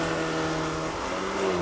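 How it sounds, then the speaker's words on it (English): A Volkswagen Golf R launches under launch control at full throttle, a loud steady engine roar heard from inside the car, holding a sustained high drone with a slight rise in pitch toward the end. "Left foot on the brake, floor the throttle"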